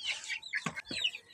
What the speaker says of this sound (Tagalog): Ngayon ay papakain na natin to sa mga manok natin.